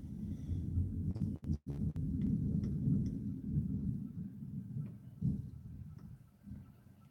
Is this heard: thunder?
yes